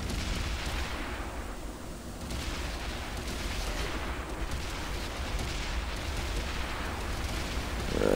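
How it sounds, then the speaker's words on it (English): Heavy tank gunfire from the Xbox One World of Tanks beta, a dense rumbling barrage of booms and blasts rolling continuously across the whole stretch, loud and steady with no voices. "I think somebody just shot at me"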